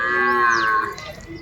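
A cow lets out one loud, close moo lasting about a second, its tone bending briefly upward before it fades.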